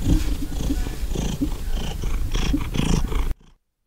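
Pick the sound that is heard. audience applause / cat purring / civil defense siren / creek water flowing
cat purring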